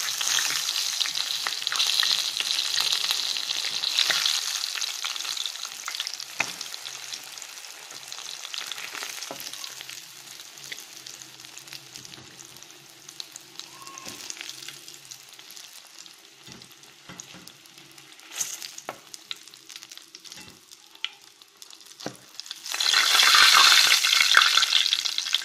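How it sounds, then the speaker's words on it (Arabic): Fish fries in hot oil with a steady, close sizzle that fades somewhat in the middle, then surges into a loud, bright crackle near the end. "وكده يا بنات السمك اتقلى معانا اهوت"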